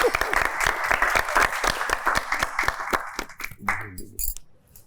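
A studio audience on a reality show claps in a dense burst that thins out and fades toward the end, with a voice faintly underneath.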